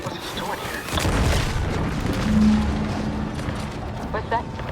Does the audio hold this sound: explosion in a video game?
yes